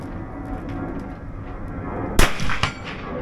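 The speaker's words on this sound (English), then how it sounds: "Now, in your own time, you can take the shot." A single rifle shot fired at a target on a firearms safety course cracks out sharply against steady outdoor background noise, followed by a short ringing echo.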